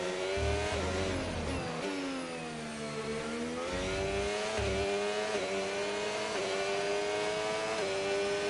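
A Formula 1 car in the F1 25 racing game runs flat out, its high, buzzing engine note holding a steady strained whine with slight pitch sweeps as it shifts through the revs, loud and continuous with no talk.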